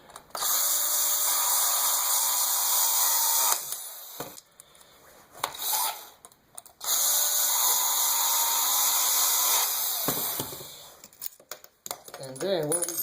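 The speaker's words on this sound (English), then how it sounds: "So I'm just going to like grab them with a pair of pliers and use my screw gun." A screw gun whines in two long sustained runs while backing old molly anchors out of a wall, loud and close, with brief clicks and handling noise between.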